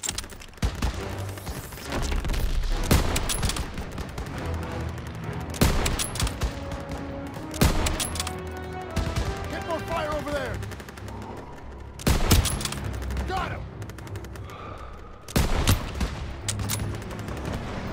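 Heavy gunfire crackles through a World War II battle in Call of Duty: WWII near a courtyard anti-aircraft gun, with irregular bursts of rifle and machine-gun fire and booming shots alternating with calmer stretches, while players talk under the shooting.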